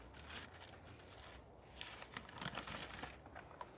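Metal bolts for a sawmill log bed extension are handled and set down, giving faint scattered clinks and small metallic taps, quiet and close with no talk.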